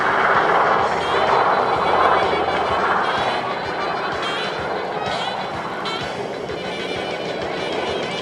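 Vintage Piper Cub propeller planes at an air show, a steady engine drone that swells and eases slightly as the aircraft pass, heard under a commentator talking.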